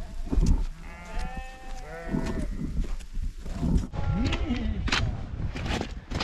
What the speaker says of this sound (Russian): Овцы, козы уже кушать хотят.